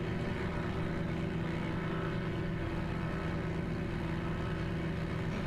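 EA-7 Edgley Optica aircraft accelerating down the runway in Microsoft Flight Simulator, a constant loud droning engine and propeller roar that holds steady throughout.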